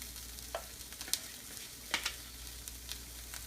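Pancakes cooking on a griddle heated to 375 degrees give a low, steady sizzle, broken by a few brief scrapes and taps from a spatula, fairly faint, with no talking.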